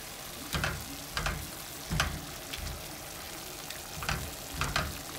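Noodles and snow peas stir-fry in a pan, a soft steady sizzle broken by several sharp scraping clacks of the utensil stirring at an uneven rhythm.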